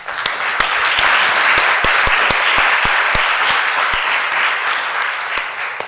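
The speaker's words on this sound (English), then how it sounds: "Let's give a round of applause for all of our speakers." Conference attendees at a hygiene and behaviour event give their speakers a sustained round of applause, a broad wash of clapping punctuated by sharp, close individual claps near the microphone.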